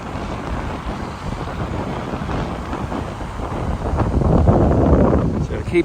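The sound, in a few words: steady north to south wind on the beach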